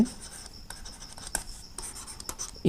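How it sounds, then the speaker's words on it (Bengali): Pen or chalk writing out a trigonometry problem during a maths lesson, short scratchy strokes in quick bursts, close and fairly quiet, with no talking. "আমরা এখানে লিখব"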